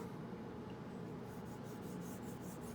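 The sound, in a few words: straight razor steel dragged across coticule honing stone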